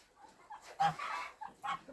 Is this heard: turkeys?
yes